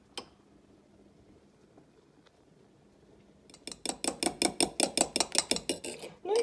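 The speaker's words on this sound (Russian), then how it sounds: "я не использую миксеров, просто обыкновенная вилка, и немножечко взобью" An ordinary fork whisks egg whites in a bowl. After a quiet start with a single clink, rapid rhythmic metallic clinks and taps follow, fairly loud and close.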